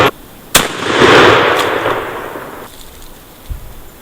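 A shotgun fires a Winchester Super X 3-inch 5-shot turkey load at an outdoor range, one loud sharp blast with a rumbling decay, then a faint thump a few seconds later.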